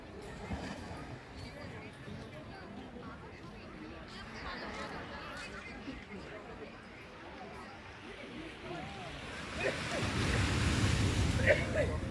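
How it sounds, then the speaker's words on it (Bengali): Sea waves wash onto Digha beach at night, a steady broad roar mixed with wind that swells louder toward the end, with faint crowd chatter in the distance. "এবার আমরা চলে এলাম রাত্রির বেলা সমুদ্রের ধারে, দীঘার সমুদ্র সৈকতে।"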